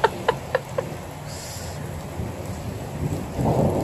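Rain falls steadily outdoors during a thunderstorm, a continuous close hiss of drops with a few sharp taps at the start and a swelling rush toward the end.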